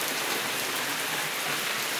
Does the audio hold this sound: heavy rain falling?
yes